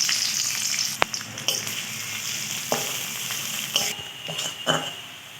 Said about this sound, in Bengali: এবার আমি পেঁয়াজটাকে বেরেস্তা করে নেব।